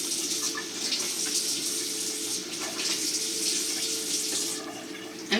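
Mushrooms are rinsed under a running kitchen tap, a steady hissing stream of water splashing in the sink with small fluctuations, close and unbroken.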